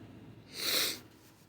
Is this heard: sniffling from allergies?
yes